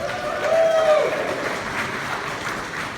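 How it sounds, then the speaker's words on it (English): An audience at a superhero costume event in Gotham applauds the costumed Marvel Comics heroes, a steady wash of clapping and crowd noise with a brief whistle-like tone near the start. "Let's give Marvel Comics a round of applause."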